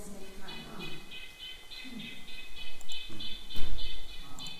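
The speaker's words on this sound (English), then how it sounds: "red-breasted nuthatch" A red-breasted nuthatch in Hulls Gulch, Boise, Idaho gives a run of short, evenly spaced nasal calls in a steady rhythm, fairly clear over outdoor background noise with a person's voice intermittently speaking.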